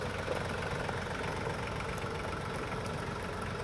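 A tractor tiller's engine runs steadily at close range, a continuous rough mechanical drone with a low rumble and no pauses.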